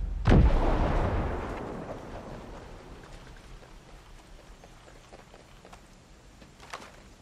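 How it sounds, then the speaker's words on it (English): A grenade detonates in Ghost Recon Breakpoint with a single loud, close boom that rolls off into a long fading rumble, followed by scattered faint distant pops and crackles. "Get down, grenade."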